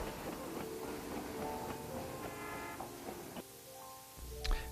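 A train departing Williams, Arizona for the Grand Canyon rumbles with clattering wheels and a steady mechanical drone, shifting and building near the end as it pulls away.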